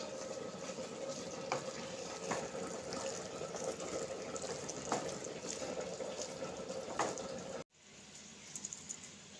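Turmeric is being stirred into amaranth leaves frying in a pan, a steady soft sizzle with scraping strokes of the spoon, broken by a brief silence near the end before the sizzle resumes.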